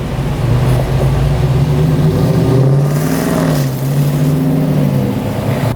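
A Dodge Challenger passes close by, its engine a loud, steady mid-range rumble that swells and shifts pitch slightly as it goes, with no talking.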